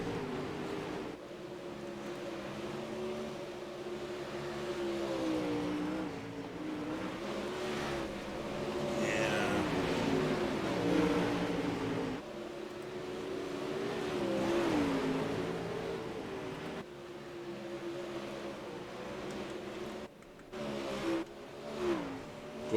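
Race cars lap Eldora Speedway during the Snap on Eldora 100, engines droning and rising and falling in pitch as the pack sweeps past, heard from a distance.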